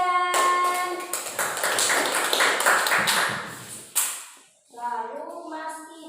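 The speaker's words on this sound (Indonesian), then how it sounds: "Tepuk tangan untuk Mbak Dian." A classroom of students claps for a classmate's poster, a lively burst of hand claps lasting about three and a half seconds, with a teacher speaking just before and after.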